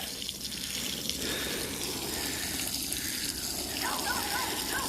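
Water runs steadily through a wool rug during a urine treatment rinse, a continuous close gushing hiss with faint trickles and no clear talk.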